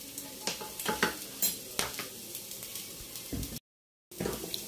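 Rice being stirred and fried in a pan with salt added, a continuous sizzle broken by repeated scraping strokes of a spoon against the metal, close up, with a brief silent gap near the end.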